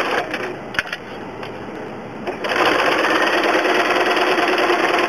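A sewing machine runs steadily with a dense mechanical whir, starting somewhat quieter and becoming louder and fuller partway through, continuing without pause.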